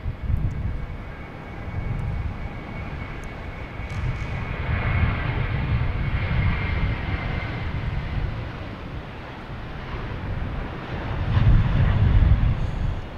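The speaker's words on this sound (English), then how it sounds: "let's get to this JetBlue taking off, heading to Orlando." A JetBlue Airbus A320 takes off from Boston Logan Airport, its engines producing a steady, broad roar that holds for a long stretch and swells louder toward the end.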